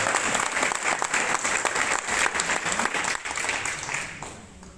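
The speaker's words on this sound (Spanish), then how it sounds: "Si es para Dios, fuertes aplausos." A church congregation applauds loudly in a dense, sustained burst of clapping that fills the room, then thins out slightly near the end.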